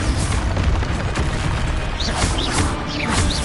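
A dense, continuous roar of booming blasts from the Expulso explosion spell in the Hogwarts Legacy video game, loud and sustained across the whole stretch amid chaotic magical combat.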